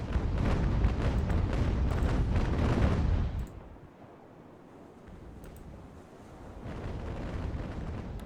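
Dense, booming cannon broadsides roar from sailing warships in an Age of Sail naval battle game, a sustained thunderous barrage that cuts off abruptly, leaving a low rumble before distant firing swells again.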